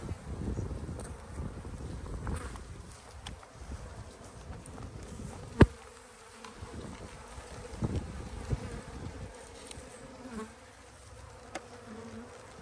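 Honeybees buzz steadily through a hive capture, a dense low drone with occasional louder passes close by and one sharp knock partway through, with no talk over it.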